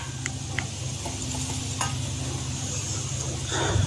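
Onion and tomato paste with turmeric, chilli, salt and spice masala frying in a pan for fish curry, a steady soft sizzle with occasional stirring clinks throughout, no talking.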